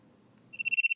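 A TikTok live-stream verification alert chimes in, a bright two-tone electronic beeping pulsing rapidly and steadily, following a few seconds of low muffled voice.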